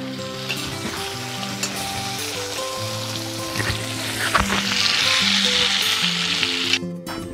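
Chicken pieces fry in hot oil in a pan as they brown, giving a steady, close sizzle with occasional stirring scrapes and crackles and no voices.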